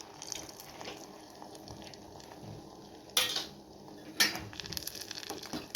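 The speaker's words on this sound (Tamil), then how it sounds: "ஸோ ட்ரை ஃப்ரூட்ஸ் எல்லாத்தையும் வந்து இப்போ பாயாசமில் போட்டுடலாம்." Dry fruits are tipped into a pot of Kerala jackfruit payasam and stirred, with a spoon scraping and clinking against the metal vessel, two sharp clattering knocks standing out midway, and no one talking.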